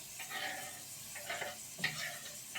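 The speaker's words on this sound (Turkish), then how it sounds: "Onları da hemen soğanımın içine atıyorum arkadaşlar." Soft sizzling and stirring as peppers fry with onions in a pan, a low steady frying hiss with a few scraping stirs, no talking.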